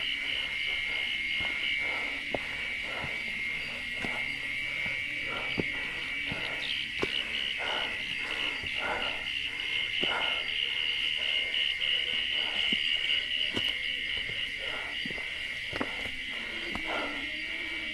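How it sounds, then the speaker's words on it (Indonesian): Crickets and cicadas fill a forest on Mount Salak at night with a steady high shrill drone, layered with rapid pulsing chirps repeating throughout, fairly close and with no talking. "hanya suara jangkrik dan tongeret yang menyelimuti area hutan"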